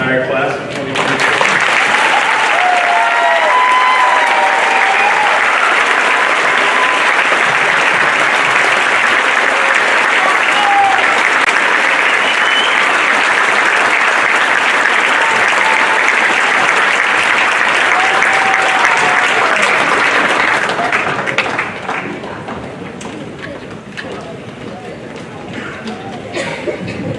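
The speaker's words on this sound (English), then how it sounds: "I'd like to have one more round of applause for the entire class of 2024." Sustained loud applause from a graduation audience for the class of 2024, steady clapping and some cheering for about twenty seconds before tapering off.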